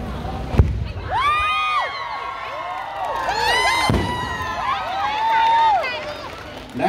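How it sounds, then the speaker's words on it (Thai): Fireworks at a concert: two sharp thumping bursts stand out against a loud crowd cheering, whistling and shouting throughout. "เรามาดูพลุนะฮะ"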